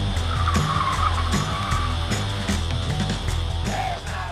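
A Porsche Taycan Turbo accelerates hard, giving a loud, steady electric whine with road and tire roar that holds throughout without a break.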